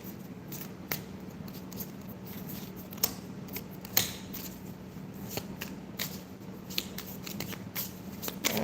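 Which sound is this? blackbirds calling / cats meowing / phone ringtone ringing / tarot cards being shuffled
tarot cards being shuffled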